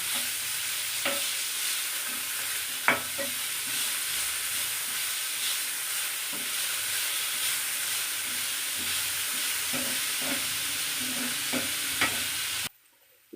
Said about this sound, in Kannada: ಒಂದು ಕ್ಯಾಪ್ಸಿಕಮ್ ಕಟ್ ಮಾಡಿ ಇಟ್ಕೊಂಡ್ರೆ ಅದು ಹಾಕ್ತಾ ಇದ್ದೀನಿ ಸ್ವಲ್ಪ ಚೆನ್ನಾಗಿ ಫ್ರೈ ಮಾಡೋಣ